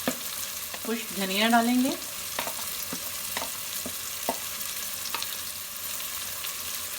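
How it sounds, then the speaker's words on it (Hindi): Potatoes frying with whole spices in a pan make a soft, constant sizzle with scattered light clicks from stirring, while a person speaks briefly early on. "जी आलू भी फ्राई हो रहे हैं।"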